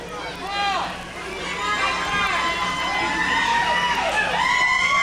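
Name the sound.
wrestling crowd cheering and reacting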